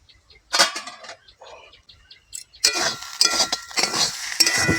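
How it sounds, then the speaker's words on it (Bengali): A pot lid lifted off a pan of frying jute leaves, then the leaves stirred, with clinks of the lid and utensil followed by continuous close scraping and sizzling. "এখন আমি রান্নার শেষ পর্বে ঢাকাটা আরেকবার খুলবো এবং খুলে নেড়ে চেড়ে দিয়ে"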